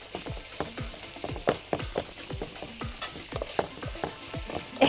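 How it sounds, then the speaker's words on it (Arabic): Minced garlic stir-fried in a pan with salt and pepper for okra, a close sizzle under quick repeated scraping stirs of a utensil across the pan, busy and fairly loud, no talking. "ثوم مفروم، شوح كده، رشه من الملح، رشه من الفلفل خفيفه"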